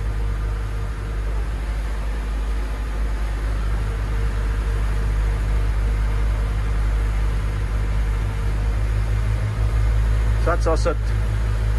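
A Rinker 270 boat under way on its Volvo Penta D4 260HP diesel at cruising revs, a loud, steady, low engine drone with hull and wind noise, while someone talks briefly over it.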